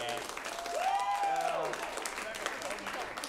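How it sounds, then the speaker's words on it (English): Studio audience applause on a late-night talk show, fairly faint and brief, with a voice speaking over it. "can we just get a nice warm round of applause for Rebecca?"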